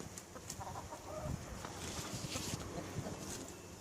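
Chickens, including Light Sussex birds and a rooster, cluck softly in a coop, faint scattered clucks over a low background hum.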